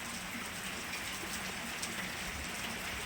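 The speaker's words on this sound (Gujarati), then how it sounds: "આજનો વરસાદ સૌને મુબારક દોસ્તો." Rain falling steadily as a dense, even hiss, faint and continuous throughout with no voices.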